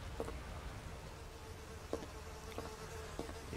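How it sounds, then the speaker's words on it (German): Close, steady buzzing of a bee hovering nearby in the video game Tomb Raider: The Angel of Darkness, with a few faint ticks and knocks scattered through the drone. "Ich höre eine Biene."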